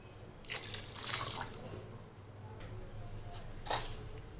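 Water pours into a cooking pot over soaked bullet rice for a vegetable biryani, in two splashing bursts, the first longer and the second short near the end, with low kitchen hum underneath.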